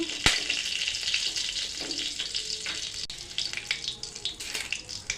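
Cumin seeds hit hot oil in a wok with a sharp burst of sizzling and spitting that crackles on, softening and turning patchier over several seconds.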